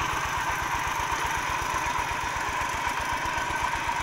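A walking tractor works a flooded rice paddy, leveling the field, its close single-cylinder engine chugging in a loud, fast, steady rhythm throughout with no voices.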